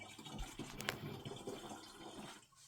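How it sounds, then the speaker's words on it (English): Distilled water poured into a car's coolant reservoir, topping up a mix run rich on antifreeze; a steady, close liquid fill runs for about two seconds, then thins out near the end. "So adding distilled water right here is not wrong"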